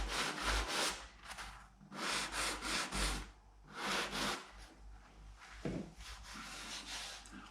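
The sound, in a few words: light sanding of wood filler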